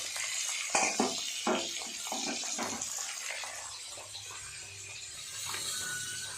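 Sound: water draining off boiled potatoes

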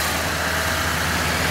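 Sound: GMC C5500 bus 6.6 liter Duramax diesel engine idling

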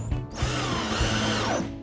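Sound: power drill driving screws into wood

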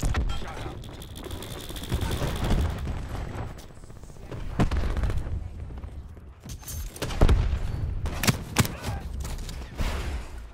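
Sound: cluster grenade strike exploding in a video game

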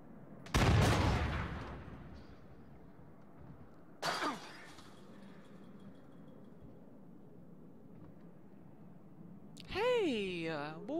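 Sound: gunshot in the video game Until Dawn

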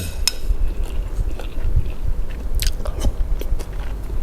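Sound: biting into crunchy boiled rice-field crab

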